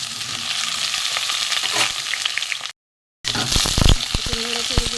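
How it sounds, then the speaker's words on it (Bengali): Pointed gourd (potol) sizzles loudly in hot mustard oil, a dense steady crackle broken by a brief silent gap, then stirring clatters and a faint voice. "প্রথমে পটলগুলো আমি ভেজে তুলে নেব।"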